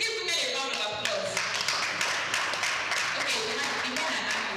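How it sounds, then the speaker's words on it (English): Audience at a conference clapping for women, a dense, steady wash of many hands that fills the clip with faint voices mixed in. "Please give women a round of applause."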